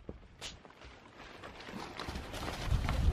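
A mini pony trots with faint hooves clip-clopping in a quick, uneven rhythm, growing closer and louder toward the end.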